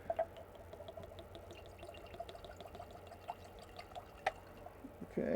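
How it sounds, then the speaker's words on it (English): Jefferson's Reserve bourbon trickles quietly from its fat-lipped bottle into a glass, a faint, soft pour with scattered small drips and splashes in a hushed room. "Let's see if that pours good"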